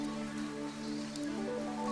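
Steady rain downpour from Fantasian Neo Dimension, a continuous soft hiss of drops over a low tonal game backdrop, even in level throughout with no voices.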